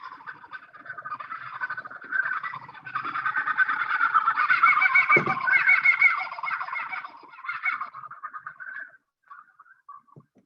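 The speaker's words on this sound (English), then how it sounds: "Laughing kookaburra." A laughing kookaburra call, an Australian bird, played back through a speaker: a long, rising, raucous cackling chorus that swells in the middle and trails off into a few fading chuckles, with no talk over it.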